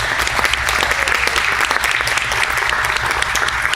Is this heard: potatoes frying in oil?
no